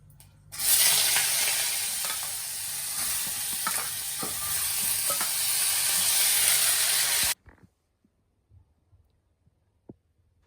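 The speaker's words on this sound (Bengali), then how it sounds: "দিয়ে দিলাম তেল শুকনো মরিচ দিয়ে দিলাম এই যে আলু ভাজবো" Potatoes and dried chillies frying in hot oil, a loud dense sizzle with scattered crackles that runs for about seven seconds, then cuts off to near quiet with a few faint knocks.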